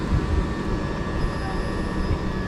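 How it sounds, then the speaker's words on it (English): A Southeastern class 375 electric train at Tonbridge station, heard as a steady low rumble and hum with a faint high whine, continuous and moderately near, no talk. "here's 375816. This is the 1250 Southeastern service to London Charing Cross."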